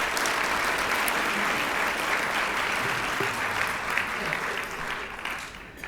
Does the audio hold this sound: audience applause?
yes